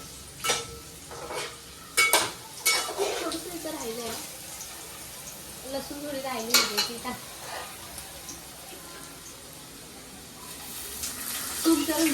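Garlic and ginger frying in a pan as the base of a veg Manchurian gravy, a soft sizzle with intermittent stirring and spoon clatter while someone talks over it.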